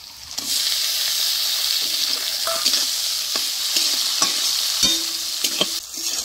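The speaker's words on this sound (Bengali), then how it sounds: "বন্ধুরা এদিকে আমি সব কিছু হালকা করে ভেজে নিচ্ছি।" Garlic and chopped tomato frying in a pan for ghugni, with steady close sizzling and repeated spatula scrapes and stirring strokes throughout, no voices.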